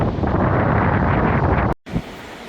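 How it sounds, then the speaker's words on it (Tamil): Strong wind buffets the microphone at the top of the Chennai lighthouse, a loud continuous roar that cuts out abruptly near the end and then returns more softly. "காத்து தள்ளுகிறது"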